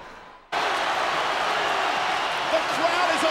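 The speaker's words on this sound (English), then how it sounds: "The crowd is electric" A packed wrestling arena crowd at SummerSlam 2002 erupts into loud, sustained cheering that bursts in suddenly after a brief quieter moment and then holds as a dense, roaring wall of noise.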